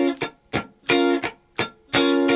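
An electric guitar plays a rhythm, with a fretted strum followed by two muted strums, repeated so that ringing chords alternate with short percussive chops, close and clear.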